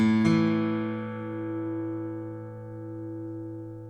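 An acoustic guitar chord is struck once near the start and rings out, its notes sustaining and slowly decaying with a gentle wavering shimmer, played on an MFG Datlen "The Tree" OM cutaway acoustic guitar.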